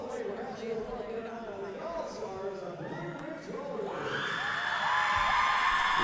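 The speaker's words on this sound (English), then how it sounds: "Listen to that crowd, folks" Roller derby crowd cheering and whooping at a season-opening bout between Orlando Ozone Slayers and Blue Ridge Ya'llstars, a busy wash of voices that swells louder near the end, with talk mixed in.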